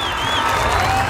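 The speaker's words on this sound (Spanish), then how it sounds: "venga el aplauso" Crowd applause at a 10-versus-10 flag football tournament in Iguala, Guerrero, a brief loud burst of clapping and crowd noise mixed with a voice over a loudspeaker.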